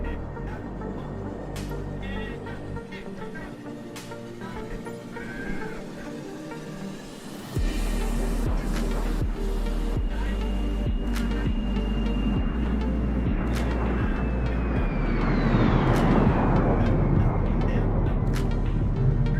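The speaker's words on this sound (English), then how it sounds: "this thing sounds nice on the flyby" A Fokker 28 jetliner in Microsoft Flight Simulator makes a flyby: a steady, low engine roar that steps up abruptly, with a whining tone that slides down as the jet passes close and loud.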